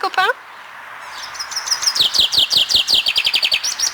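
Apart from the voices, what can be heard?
birds singing outdoors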